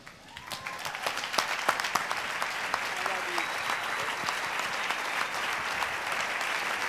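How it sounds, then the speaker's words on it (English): Sustained applause from an audience at a country music awards presentation of the President's Award, dense clapping that swells in and holds steady, with faint cheering or voices under it. "the applause that is given here tonight is really for the songwriters"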